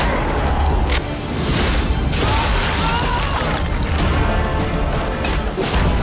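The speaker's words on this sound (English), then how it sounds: "Its explosion triggers a powerful blast of light that wounds vampires instead of blinding them." A light bomb in the game Nosgoth detonates, producing a loud crashing blast with sharp impacts and sustained noisy debris that keeps going for several seconds.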